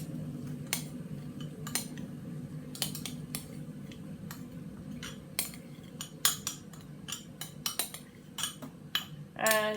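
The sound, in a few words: mixing chickpea dal, eggs, curry powder and rice in a bowl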